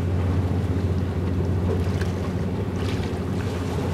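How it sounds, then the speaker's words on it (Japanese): A calm September sea with gentle waves, heard as a steady, even wash of water and wind under a constant low mechanical hum, with no voices. "今日の海すごい穏やかじゃんか"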